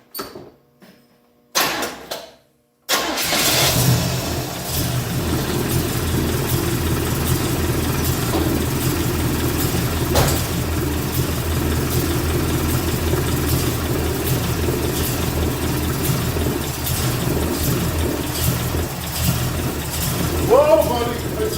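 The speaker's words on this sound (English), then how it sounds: "Let me give her some gas." An Oldsmobile 455 V8 engine starts after a few brief knocks and then runs with a loud, steady, rumbling idle close by, with throttle blips, while a person talks over it.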